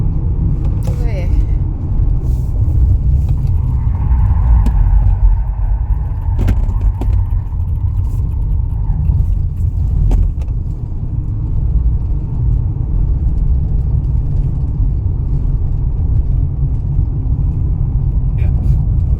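A Chery Tiggo 8 CSH hybrid SUV driving on the road: a continuous low engine and tyre rumble fills the cabin at steady volume throughout, with no clear speech.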